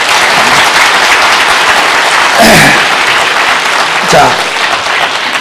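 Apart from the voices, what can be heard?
church congregation applause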